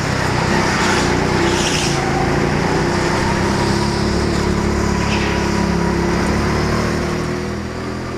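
A small rental go-kart engine drones loud and steady while climbing a ramp on an indoor karting track, a continuous close buzzing hum that eases slightly toward the end.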